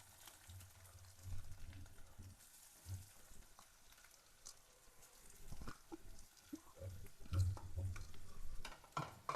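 Bitter gourd pieces fry in oil and are stirred firmly in a pan, making quiet, uneven bursts of scraping and sizzling that rise and fall over several seconds, with no talking.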